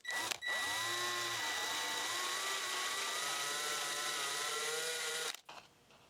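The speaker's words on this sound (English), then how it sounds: "It's best to leave the cap on when you drill it." Power drill spinning a step drill bit through the plastic cap of a lawnmower oil fill, a steady whining motor hum with shifting pitch, starting after a brief blip and stopping abruptly near the end.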